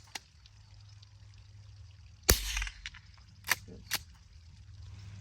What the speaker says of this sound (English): we're gonna be shooting this gun at 100 yards. Browning T-bolt, 22 long rifle